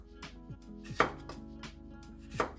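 A knife cuts a cucumber into rough chunks on a cutting board, giving a few quiet, irregular chopping knocks, two of them sharper and louder, with no talking.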